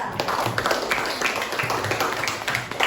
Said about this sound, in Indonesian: Ya, silakan beri tepuk tangan kepada Tia.